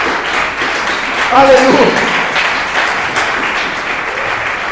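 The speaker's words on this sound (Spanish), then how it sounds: "Den el aplauso al Señor." A church congregation applauds the Lord during a sermon, with steady clapping throughout and a voice calling out over it midway.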